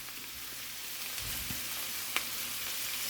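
Cubed beef seasoned with Creole sauce hitting a hot pan for stew, giving a steady soft sizzle with a couple of faint clicks of a spatula against the pan, quiet and with no talking.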